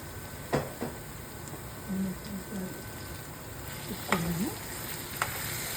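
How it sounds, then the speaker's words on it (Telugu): Mushroom curry masala paste with chili powder fries in oil in a pan, a steady soft sizzle broken by a few clinks of a spoon stirring, close by. "ఈ మసాలా కూడా కొంచెము ఒక 5 మినిట్స్ ఇలాగ ఆయిల్లో మసాలా కూడా వేయించుకోవాలండి."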